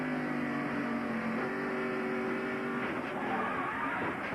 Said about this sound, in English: You could hear Dale get on the accelerator